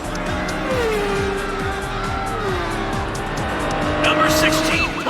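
Cartoon race car roaring at speed with rising and falling engine pitch, tire squeals and skids cutting through, loud and continuous, with voices talking over it.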